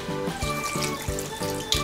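Water pours into a tray holding rabbit meat with halved garlic, pepper, salt, thyme and basil, a steady close splashing stream with faint rhythmic knocks underneath.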